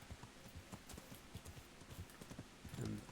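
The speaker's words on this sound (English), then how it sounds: "Sir Hans's horse is here." Hooves clip-clop in a steady walking rhythm from a horse in the medieval video game Kingdom Come: Deliverance, quiet and fairly close, ending with a brief snort.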